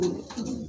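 A single brief, soft coo from a pigeon, one of a matched pair for sale, heard up close, a low rolling murmur lasting under a second.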